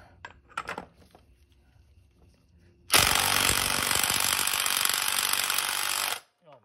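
Impact wrench on a 36 mm rear axle nut of a Triumph Speed Twin motorcycle during a belt-drive conversion: after a few quiet tool clinks, one loud, close, continuous hammering burst runs for about three seconds, then stops abruptly.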